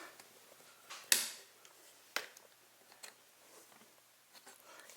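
Plastic screw cover being pried off a Lexus IS300 front door panel, heard as a sharp snap near the start, then a second smaller click and faint scattered ticks in a quiet setting.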